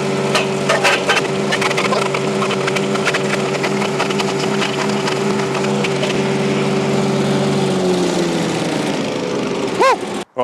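A garden wood chipper engine runs at a loud, steady pitch while timber is fed through it, with frequent cracking and splintering bursts. The engine winds down near the end.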